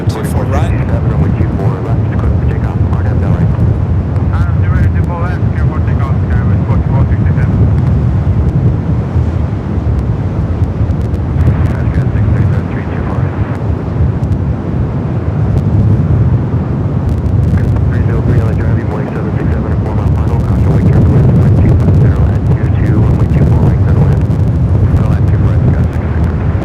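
A Delta Airbus A319 lands at LAX in gusty wind: a loud, continuous jet roar mixed with heavy wind buffeting on the microphone, sustained and rumbling throughout with no talk.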